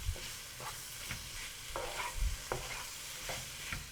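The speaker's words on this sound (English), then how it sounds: "Now increase the heat to high and just kind of stir the spices into the potatoes." Spices being stirred into soft potatoes in a hot pan for Punjabi samosas: a spoon scrapes and knocks in irregular strokes over a quiet, continuous sizzle.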